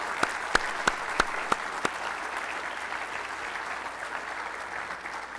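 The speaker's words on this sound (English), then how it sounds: "Let's give Steve one more round of applause." Crowd applause at an astronaut lecture, steady dense clapping with a few sharp louder claps near the start, continuing throughout at moderate volume.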